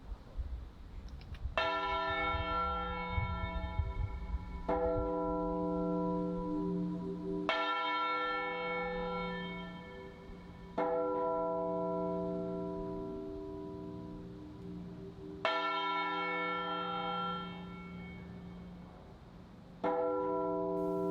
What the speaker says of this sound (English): Bells toll the following morning.